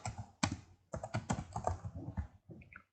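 Quick bursts of key presses on a computer keyboard clatter up close while a command is typed into Command Prompt, uneven clusters of crisp clicks with short gaps between them.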